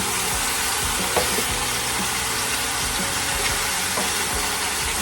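Garlic sizzling steadily in a hot pan of oil for pork ribs adobo, a dense continuous frying hiss with a few faint clicks and stirs, close and alone without talk.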